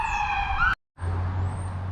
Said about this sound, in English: And of course, the sirens go off.